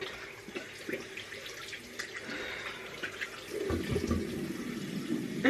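Tap water runs into a sink while a face is rinsed during an evening skincare routine, with a faint trickle that grows into a fuller, steadier splash near the end.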